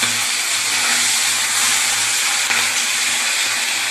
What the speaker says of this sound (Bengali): এরকম করে লাল লাল করে ভেজে নিচ্ছি।